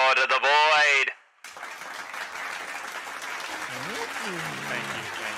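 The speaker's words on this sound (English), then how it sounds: "Let us begin our show with a round of applause for our dear Lord of the Void." A voice speaks briefly, then after a short gap a steady wash of applause follows for a talk show host's guest, continuing under faint voices.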